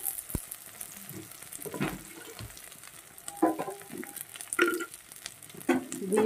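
Chopped garlic, chili and onion frying in oil in a wok, with irregular crackles and spatters, scattered bursts of sizzle and stirring clatter, close and alone without talk.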